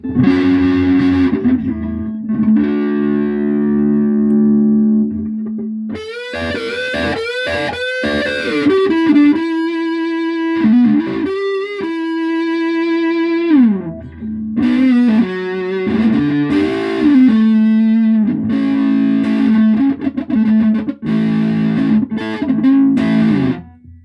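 Heavily distorted electric guitar through a tube bender distortion pedal playing sustained chords and riffs, loud and continuous with a few brief pauses between phrases.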